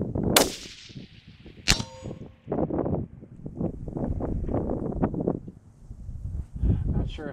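Bullets from a Ruger Precision rifle in 6mm Creedmoor strike a steel target far off at 1000 yards. Two sharp metallic rings stand out early, followed by someone talking over gusty wind noise.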